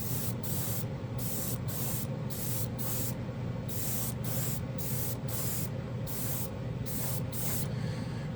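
A Patriot airbrush at 15 PSI sprays Tamiya gloss black paint in a string of short, evenly spaced hissing bursts, close and steady, with no talking.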